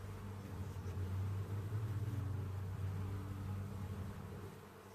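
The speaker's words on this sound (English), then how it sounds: "see lots of bees flying around here" Bees fly in numbers around active hives on a summer day, a steady low hum filling the whole stretch without voices.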